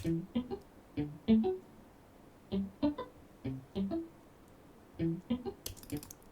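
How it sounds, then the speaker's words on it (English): A MIDI muted electric guitar part in Logic Pro plays a quiet, straightforward pattern of short, clipped plucked notes in small rhythmic clusters with brief gaps between them. "muted electric guitar"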